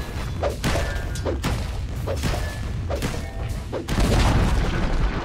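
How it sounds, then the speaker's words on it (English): Dota 2 tower being destroyed in battle, a series of heavy booms and thuds in a rapid irregular volley, ending in a louder sustained crashing rumble. "Dire's top tower has fallen."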